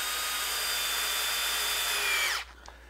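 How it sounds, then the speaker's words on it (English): Power drill driving screws into a wooden face frame, a close, steady high-pitched motor whir that winds down sharply near the end, followed by a brief faint knock. "drive the screws in."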